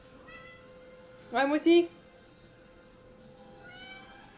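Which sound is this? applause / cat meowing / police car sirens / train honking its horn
cat meowing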